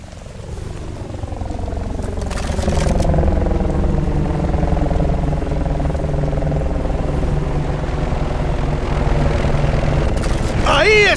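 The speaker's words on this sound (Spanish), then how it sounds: "¡Ese debe de ser su helicóptero!" A military helicopter in the video game Battlefield Bad Company 2 drones loudly with a steady rotor thrum that holds for several seconds, joined by brief bursts of gunfire and game noise.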